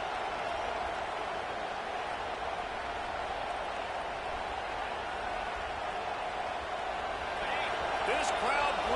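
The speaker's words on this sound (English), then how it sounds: "This crowd bringing the energy and noise early" Steady roar of a stadium crowd at a UGA versus FSU college football game, a loud, dense wash of noise holding throughout, with a brief louder swell near the end.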